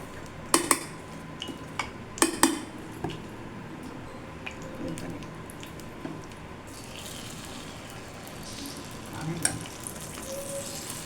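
Oil sizzles softly in the wells of a hot paniyaram pan as corn paniyaram is prepared. Sharp metallic clinks and taps come in brief clusters over a steady, faint crackling hiss.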